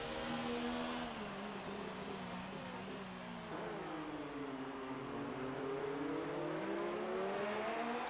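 Racing cars in a racing video game drag along the pit straight at the Belgium round, a steady high engine whine with rising and falling pitch as engines rev, a second engine tone layered underneath, no voices.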